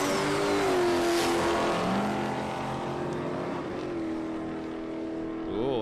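A Holden VH Commodore drag car roars down the strip at a raceway, its engine note sustained and loud, rising and falling as it runs past.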